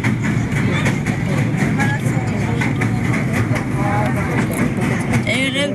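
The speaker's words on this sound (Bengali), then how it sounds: "তো এখন ট্রেন ছেড়ে দিয়েছে, তো আমরা যাচ্ছি" Steady rumble and rattle of a moving train, heard from inside the carriage at night on a journey to Puri. The loud, continuous noise runs throughout, with faint voices in the background.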